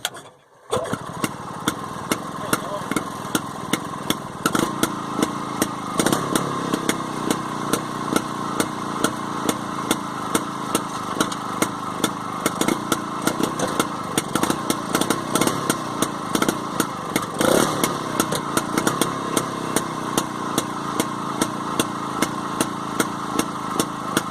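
A small Penguin engine runs steadily for the whole stretch, a loud, even mechanical drone with a rapid ticking pulse, briefly faltering right at the start; it leaks rusty water while running.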